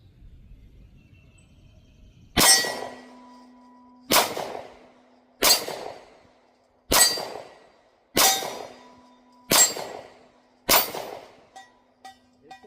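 Canik MC9 pistol firing 115-grain MagTech steel-case rounds at steel targets, seven sharp evenly spaced shots each followed by a ringing metallic clang, then fainter pings as the plates settle.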